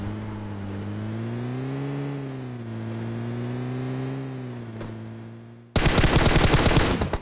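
A bot firing in a mobile shooter game sends a loud burst of rapid automatic gunfire near the end, after a long steady droning engine-like tone.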